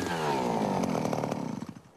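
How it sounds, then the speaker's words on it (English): A drill boring deep into frozen Arctic permafrost in northern Yakutia, a loud, steady mechanical whine and grinding with harmonic overtones that sputters and fades toward the end. "drill deep into the ground to analyze changes in the permafrost"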